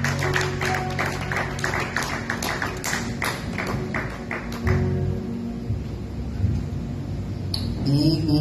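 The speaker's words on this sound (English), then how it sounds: "Give her a hand clap as she comes up to you." Church congregation clapping hands during a Nazarene service, a run of distinct, fairly close claps in an uneven rhythm for the first few seconds, then fading into murmuring room noise and faint voices.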